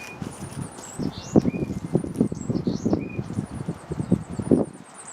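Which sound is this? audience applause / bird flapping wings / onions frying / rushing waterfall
bird flapping wings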